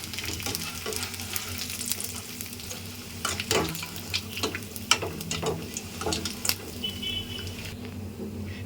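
Sun-dried vathal fries in hot oil in a pan with a constant close crackling sizzle, dotted with sharper pops and stirring clatter, no voices.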